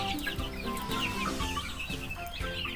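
A flock of KUB chickens clucks and squawks continuously at close range, many birds calling over one another in a busy coop chorus.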